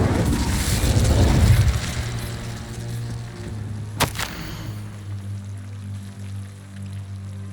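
A fire spell cast in Hogwarts Legacy lands as one sharp, loud whip-like crack partway through, over a rumbling low burst at the start and a steady hum of game ambience underneath.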